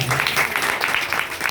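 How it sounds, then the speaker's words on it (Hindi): Congregation at a worship service clapping loudly together: a dense, steady burst of many hands applauding, close and energetic, lasting the whole moment. "एक बार जोरदार ताली बजाएं।"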